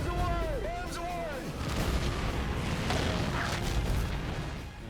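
Bombs exploding during a World War II bombing raid, a dense, continuous roar of blasts and rumble with a falling whistle early on, loud and sustained throughout, with voices mixed in.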